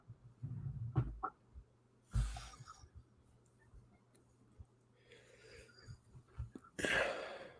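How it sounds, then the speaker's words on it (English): A few sharp, breathy bursts like sneezes or snorts separated by quiet pauses, with faint background noise between them. "I got the sneezes."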